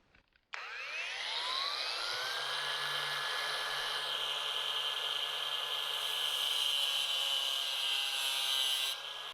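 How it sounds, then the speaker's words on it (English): A grinder cutting a small groove into metal for a screw, a continuous high-pitched whine that starts abruptly and holds steady and loud for about nine seconds, close up with no talking. "I'm going to grind a little groove in here so I can put the screw through there"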